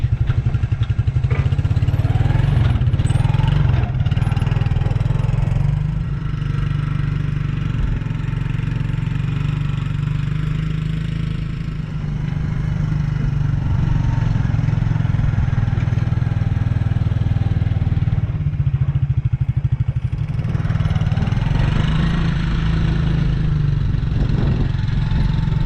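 Suzuki King Quad ATV in two-wheel drive and super low range, its engine running steadily and loud with a deep low hum, small dips and rises in revs as it crawls over rocks, no talk.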